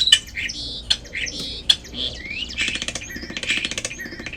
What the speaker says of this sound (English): It's a bird in our dry hose.